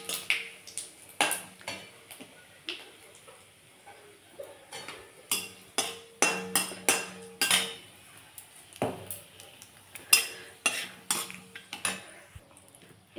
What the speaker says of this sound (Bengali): আর দিয়ে দেবো জিরে ফোড়ন দিয়ে দিলাম। ফোড়নটা আমরা ভেজে নেব।